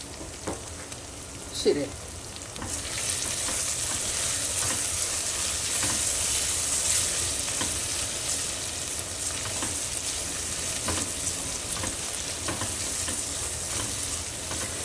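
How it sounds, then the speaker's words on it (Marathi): Potatoes sizzle in a pan with salt added, steadily crackling while a utensil scrapes and stirs them, and a brief spoken word comes near the start. "व्यवस्थित बटाटा परतून घ्यायचा"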